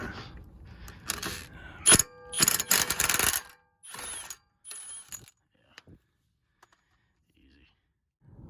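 Ratchet wrench loosening a tie rod end on a Scion tC during a passenger-side CV axle job, a few bursts of rapid clicking and metallic clatter with pauses between, fairly close, fading to near silence.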